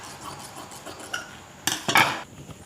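Scissors cut blouse lining cloth, folded to sleeve height: faint fabric handling, then a few sharp, close snips in quick succession near the end.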